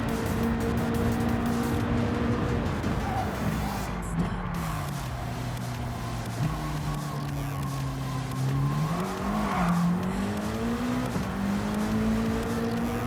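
Race car engine in Gran Turismo 7 on racing hard tires, a steady, loud droning note that rises and falls through gear changes, with faint tire and track noise underneath, close and continuous.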